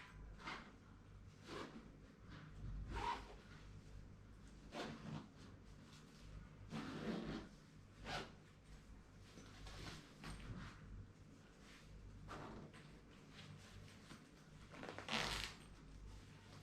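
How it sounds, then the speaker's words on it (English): A trekking bag being zipped shut in short, scratchy bursts spread across the stretch, quiet and close, with pauses and rustling between pulls. "Let's see if we can zip this up."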